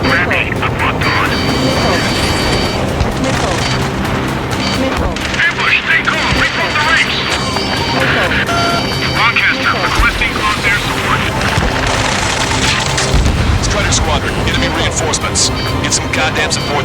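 Missiles and explosions in Ace Combat 7 air combat on hard difficulty, a dense, loud wash of booms and jet roar under steady music, with radio chatter voices running throughout.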